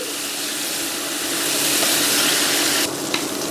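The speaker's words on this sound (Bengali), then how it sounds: "এখন ম্যারিনেটেড প্রনগুলো দিয়ে দিচ্ছি" Marinated prawns frying hard in a hot pan, giving a loud, dense, continuous sizzle that hisses without a break and eases slightly at the very end.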